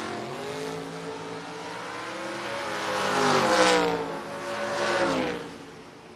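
A Camaro and a Blazer drag racing at a strip, engines roaring as they accelerate hard, rising pitch swelling louder toward the middle and again near the end, heard from a moderate distance.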